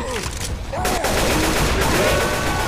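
Gunfire in the zombie shooter Left 4 Dead 2 during a custom-map finale, dense bursts of shots running continuously and loudly under a busy game soundtrack.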